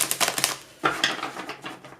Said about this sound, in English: Let's go ahead and shuffle these cards a few times